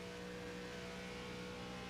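A race car engine drones steadily in a racing game at Atlanta, a continuous even hum with no clear revving changes, fairly quiet throughout.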